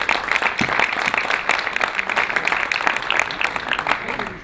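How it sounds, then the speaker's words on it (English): Audience clapping for the Secretary General at the EPP Congress in Marseille, a steady round of many hands with individual claps audible, continuing evenly throughout. "Let's give the Secretary General a round of applause for his leadership"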